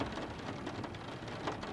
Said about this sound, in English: there's a huge crash of lightning